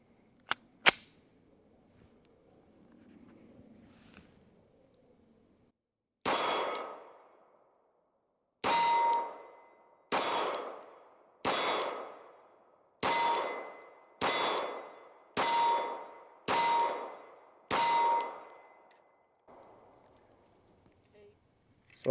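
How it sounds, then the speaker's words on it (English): A pistol fired without its NDZ Helix compensator: one early shot, then nine sharp, loud reports spaced roughly a second or two apart in an otherwise quiet outdoor setting. "I'm gonna shoot it without the comp"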